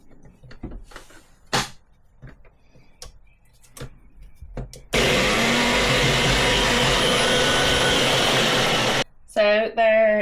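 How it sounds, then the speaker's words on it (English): Blender crushing digestive biscuits into crumbs, a loud steady whirring grind lasting about four seconds after some kitchen clatter and brief talk, then a short pause and another burst of blending. "So now I'm going to put the biscuits into the blender."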